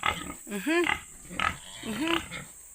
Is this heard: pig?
yes